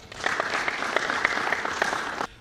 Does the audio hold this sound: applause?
yes